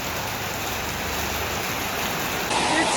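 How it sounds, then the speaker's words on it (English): Heavy rain shower pours down at a beach in Phuket as a steady, dense hiss, loud and continuous, growing a little stronger near the end. "It's not just a rain, it's a shower."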